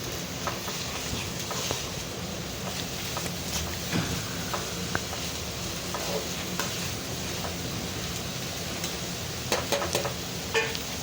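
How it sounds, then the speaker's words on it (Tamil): Chopped onions for prawn thokku being stirred and sautéed in a pan over a low flame, a soft continuous sizzle with occasional spoon scrapes and taps, close but fairly quiet, no talking. "இப்போ வெங்காயத்தை போட்டதுக்கப்புறம் அதை நல்லா கிளறி விடுங்க"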